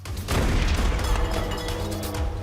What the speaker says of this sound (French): La fusillade se poursuit et les tirs deviennent de plus en plus précis.